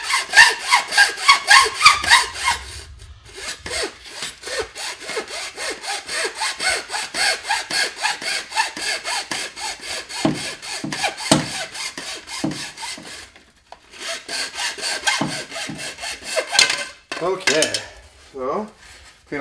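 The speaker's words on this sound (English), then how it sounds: "saw through, keeping it as straight as possible." Hand saw cutting through a plumbing pipe with rapid, regular back-and-forth rasping strokes, close and fairly loud, broken by a couple of short pauses between bursts of sawing.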